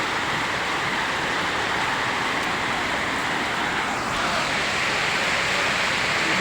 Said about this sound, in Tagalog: Ang lakas pa rin ng ulan dito sa Santa Mesa